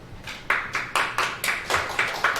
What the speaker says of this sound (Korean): 박수 서비스 아주 대단하십니다